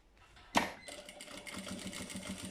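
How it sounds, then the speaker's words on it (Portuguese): A sewing machine stitches lining onto a fabric bag, starting with a sharp clack, then running in a steady, fairly quiet mechanical whir with a soft rhythmic ticking. "cozo aqui a toda a volta para fixar já o meu forro à peça"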